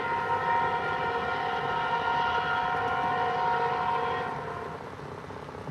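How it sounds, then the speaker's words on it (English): A southbound CPKC freight train, numbered 654, sounds a long, loud, sustained multi-tone horn blast close by over a steady rail rumble, and the horn cuts off near the end as the rumble continues. "here comes our CPKC train"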